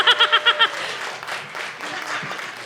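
Audience at a comedy show claps after the host's call, starting with a few loud rhythmic beats then spreading into steady applause mixed with scattered laughter and chatter.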